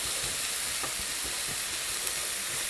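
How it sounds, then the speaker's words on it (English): Onions sizzle steadily in a pan while tongs break them apart, giving a constant frying hiss with soft intermittent stirring scrapes and taps close by. "So I'm going to get these onions kind of broken up a little bit."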